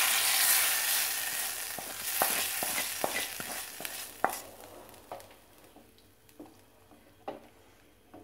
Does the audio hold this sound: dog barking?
no